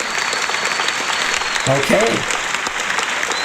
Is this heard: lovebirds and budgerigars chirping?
no